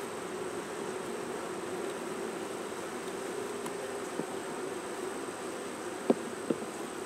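Honey bees swarm around an open hive frame, a dense, steady buzz with no talk, broken by a couple of faint clicks near the end.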